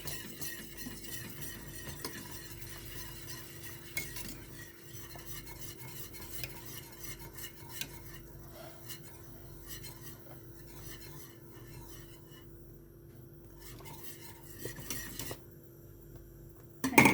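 An egg is whisked into a simmering sauce in a pan while baked pasta is being made, giving continuous rapid scraping and clinking of utensil against the pan, moderately loud and close, with a sharper clatter at the end.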